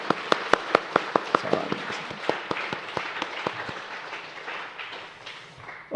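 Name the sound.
church congregation applauding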